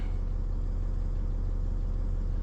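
A Cummins ISL 8.9 diesel engine idles steadily in a Newmar Dutch Star 4304 motorhome, a constant low, even rumble with no changes in pitch, heard up close without voices.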